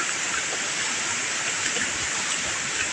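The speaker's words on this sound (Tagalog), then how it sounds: "lakas pa ng ulan" Heavy rain from Typhoon Kristine pours down in a dense, unbroken hiss, loud and close, steady from start to finish with no voices.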